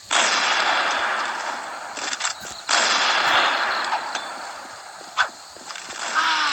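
Rapid automatic gunfire from a CrossFire first-person shooter match, loud and continuous bursts with brief gaps, sharp shot transients punctuating a dense metallic clatter, no talking.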